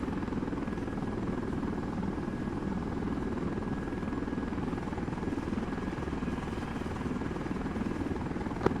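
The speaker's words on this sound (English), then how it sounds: "Advise rotary taking off from airfield." A military helicopter in a video game drones steadily and evenly at moderate distance as it lifts off from an airfield. The rotor and engine rumble holds with no talk over it.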